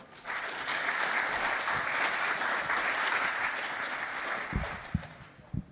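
An audience applauds a speaker taking the stage in a conference main room, with steady, dense clapping that holds for several seconds before thinning into a few last scattered claps.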